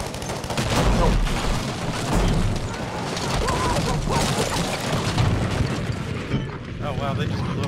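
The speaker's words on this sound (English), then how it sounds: "Oh wow, they just blew up our house." A house in Battlefield V's Arras Breakthrough map is blown apart, a sustained loud rumble of explosions and debris roaring across several seconds amid battlefield gunfire, with voices talking over it.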